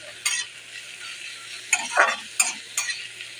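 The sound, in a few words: stirring chopped capsicum in a frying pan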